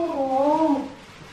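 A cat gives a single drawn-out meow with a wavering pitch, close and fairly loud, then trails off into quiet room noise.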